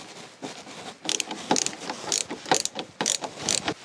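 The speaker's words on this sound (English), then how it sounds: "Got two more screws to put in." Screws are driven in while a curtain rail is fitted inside a Volkswagen Caddy van: a run of short, sharp ratcheting clicks in quick bursts, close and fairly loud, with no talking.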